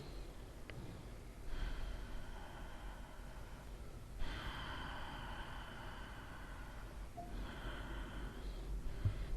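Rapid, forceful yogic breathing, with bursts of hissing breath in and out coming in separate stretches and quiet pauses between them, fairly faint and close.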